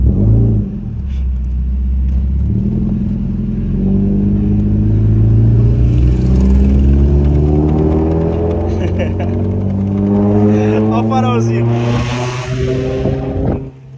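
A Mazda Miata MX-5 convertible engine revs up through several gears while driving, each pull rising in pitch before a shift drops it back. The engine is loud and steady from close inside the open car, and a voice is briefly heard near the end.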